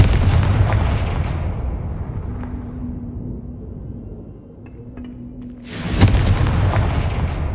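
A Confringo explosive spell in a video game detonates with a deep, loud boom that rumbles and fades over a few seconds, followed by a second sharp blast near the end.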